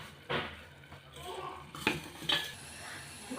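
A lid is set on a cooking pot as a mani thoran dish cooks, giving a few close metallic clinks and clatters over a soft background hiss.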